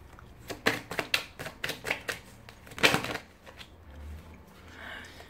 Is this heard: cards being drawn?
yes